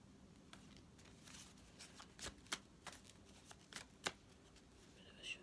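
Tarot cards are shuffled quietly by hand in a series of soft, irregular riffles and flicks with brief pauses between them, close up in an otherwise quiet room.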